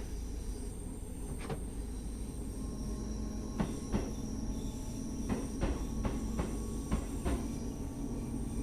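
A Class 313 electric multiple unit running in the game Train Sim World 2, a steady rumbling rail drone with a faint whine and a series of sharp rhythmic clacks over rail joints.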